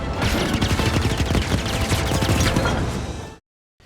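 Rapid-fire blaster shooting from the video game Star Wars Jedi Fallen Order, a dense, loud burst of quick repeated shots lasting about three seconds before cutting to silence.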